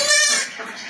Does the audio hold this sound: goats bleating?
yes